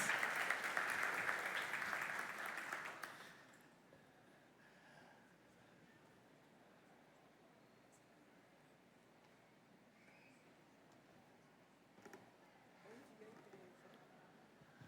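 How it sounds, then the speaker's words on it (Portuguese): Applause from a church audience greets a guest invited onstage during a morning service. It is loud and sustained for about three seconds, then breaks off into quiet room tone with a few faint later sounds. "Vamos recebê-la com uma salva de palmas."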